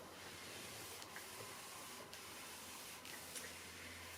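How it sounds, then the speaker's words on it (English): Steam iron pressing a fabric tree applique in place, giving a steady, faint hiss of steam with a few brief soft bursts at roughly one-second intervals, alone and without talking. "I'm going to iron it in place."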